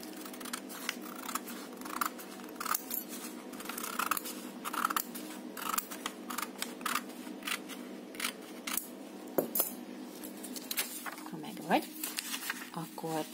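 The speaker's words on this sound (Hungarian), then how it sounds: "akkor ezt a részt tudod itt kivágni. Az olló, illetve anya vagy apa segítségével." Scissors snip through paper at a children's craft table, a steady run of short crisp cuts repeating for over ten seconds, close and fairly quiet, with a faint voice at times.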